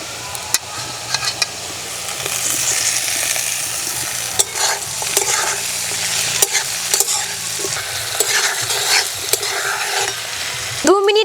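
Green beans and tomatoes with chopped green chilli frying in a pan for a vegetable puffed-rice snack, stirred continuously with a utensil, giving a steady close sizzle and scraping clicks throughout with no talking.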